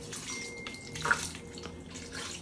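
Liquid is poured into a pot of seafood soup in a kitchen, giving a soft, steady splashing wash with a brief louder splash midway and no talk.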